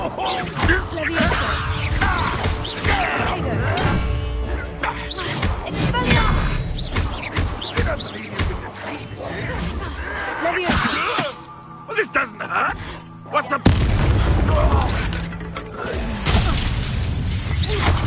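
Spell effects in the Hogwarts Legacy video game play out as a dense run of shattering crashes, thuds and whooshes across the clip, with a brief lull before a loud burst and voices speaking amid the action.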